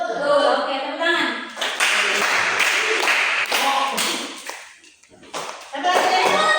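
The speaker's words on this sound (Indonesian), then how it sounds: "Oke, tepuk tangan." Classroom students clapping hands during an ice-breaking activity in a coding and artificial intelligence lesson, heard as several close, loud bursts of clapping with short pauses between them and a brief lull near the end.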